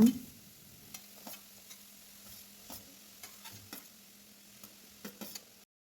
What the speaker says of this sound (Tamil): இப்போ பொடியாக நறுக்கின பெரிய வெங்காயத்தை சேர்த்து நல்லா வதக்கிடுங்க.